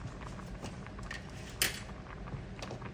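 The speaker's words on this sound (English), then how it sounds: "And we're gonna stir this." Kraft mac and cheese is being stirred with butter and whipped cream cheese; a spoon scrapes and clinks against the pot in soft, irregular strokes, fairly quiet and close, with no talking.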